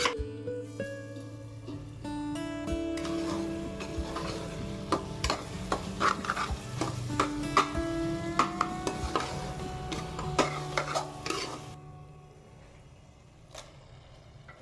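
Onions and tomatoes cook down in a pan for spicy chicken gravy, with repeated spatula scrapes and taps over a low, steady sizzle and a faint humming tone, and the stirring fades out near the end.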